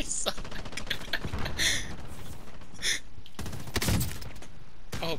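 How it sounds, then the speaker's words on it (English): Gunfire in the Warzone video game crackles in sharp bursts, with a dense volley near the middle and another at the end, under and between a voice talking. "They're shooting at you."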